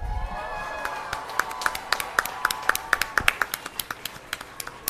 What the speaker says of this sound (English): Yes, a big round of applause.